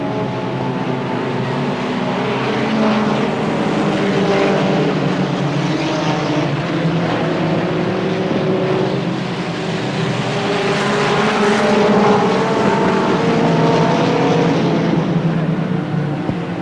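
Dirt-track race cars roar around Star Speedway during a 15-lap Roadrunner main event, a loud continuous engine drone that swells and fades as the pack sweeps past.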